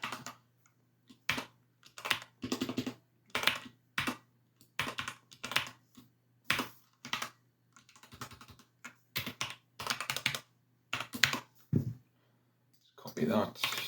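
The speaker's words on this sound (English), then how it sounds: "And if I can type, let's go." Typing on a computer keyboard while coding CSS, close clicky keystrokes in irregular bursts separated by short pauses, with a faint steady hum underneath.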